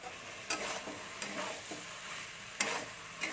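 Cauliflower and peas are tipped into frying masala for a mouri phulkopi dish and stirred, giving a soft continuous sizzle broken by several sharp scraping clatters of the spoon against the pan, close and moderately quiet with no talking.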